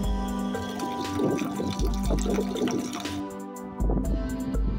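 Water gurgles and splashes steadily as stored tank water is pumped into a water jug, with a low motor hum underneath and a brief pause near the end.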